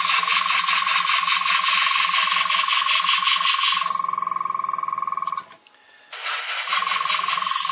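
An airbrush sprays paint onto the whitewall tyre of a 1932 Chrysler Roadster with a steady, loud hiss and a sharp tonal whistle. The spray cuts off briefly to a quieter air flow, falls silent for a moment, then resumes.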